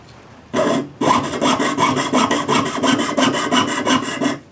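Steady rhythmic rasping of a jeweler's saw cutting metal for an adjustable anticlastic ring, quick back-and-forth strokes after a brief first stroke, close and loud.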